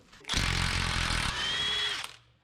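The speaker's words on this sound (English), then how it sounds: "So there's the nut removal." A power tool zips an outer tie rod nut off a car's steering spindle, a single loud burst of rattling impact hammering that settles into a steady whir before abruptly stopping.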